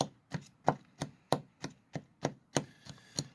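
Food being chopped with a screwdriver for a homemade mousetrap bait: a steady series of about eleven sharp, evenly spaced knocks against a hard surface, close and clear with no voices.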